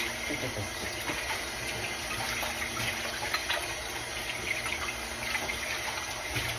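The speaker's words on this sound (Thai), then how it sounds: "ล้างถ้วยครับ" Tap water runs steadily while cups are washed at a home sink, a continuous close splashing gush with faint clinks of crockery throughout.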